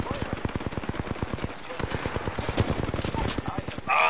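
Rapid automatic gunfire in an online shooter video game, long steady bursts of closely spaced shots with a short pause, fairly near and continuous, a voice speaking briefly over it.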